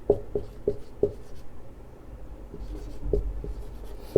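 Chalk taps and scrapes on a board in a classroom, a quick run of sharp strokes followed by a pause and then a few more close, distinct knocks.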